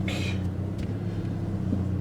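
A Mini Cooper S R56 with an Alta blow-off valve spring fitted drives along, a steady low engine rumble with faint tonal hum throughout and a brief brighter whoosh near the start.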